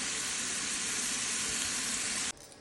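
Bacon frying in a pan while Southern style greens are made, a close, steady hiss and crackle of sizzling grease that runs evenly before dropping away abruptly near the end.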